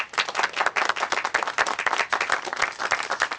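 Applause at an award presentation held in Bernard and Corinne Lemoine's restaurant: steady, dense clapping from a small crowd, close and loud, running without pause.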